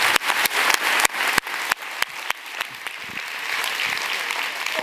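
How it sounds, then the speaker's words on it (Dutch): Audience applause after thank-yous to the evening's speakers at a talk event, dense clapping rising to a loud, steady crowd roar with a few sharp individual claps standing out early on. "Applaus."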